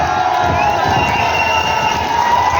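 Audience at a business seminar cheering and clapping together, a steady loud crowd roar with shouts throughout.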